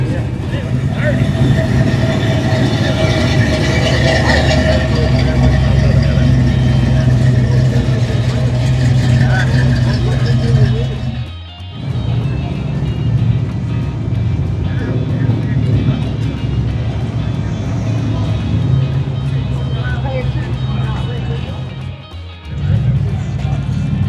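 Classic Ford Mustang fastbacks, a 1965 among them, rolling past at a Myrtle Beach car show, engines rumbling steadily and loud over street noise, with people talking nearby.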